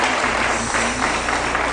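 Studio audience applause on an Arabic TV talk show, a loud continuous wash of clapping from a large crowd that fills the whole stretch with no pause.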